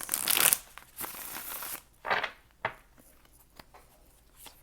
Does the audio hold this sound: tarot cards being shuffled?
yes